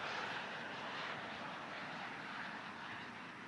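A large model aircraft with a 2.7 m wingspan flies aerobatic loops at an airshow, heard as a faint, distant, steady engine drone that slowly swells and fades.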